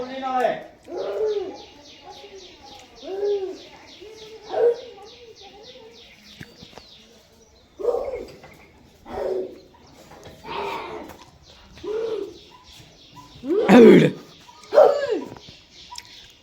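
Pigeons give a series of repeated rounded coos, with a rapid chattering bird call running high above them and a few louder calls near the end.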